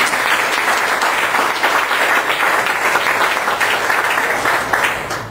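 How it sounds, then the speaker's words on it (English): A loud, dense round of applause from an audience honoring a company's board, sustained and even throughout with no speech over it. "I'd like to clap for the board"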